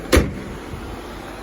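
A 2020 Jeep Cherokee Limited door swings shut with one solid, close thump, followed by a brief quiet settle.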